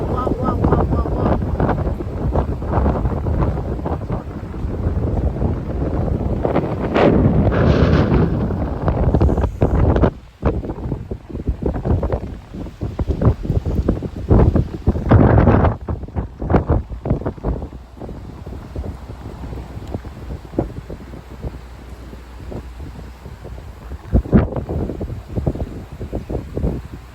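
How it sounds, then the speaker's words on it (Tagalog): Strong wind buffets the microphone in cold weather outdoors, a loud continuous roar with gusts rising and falling throughout, while people talk now and then. "Malakas ang hangin."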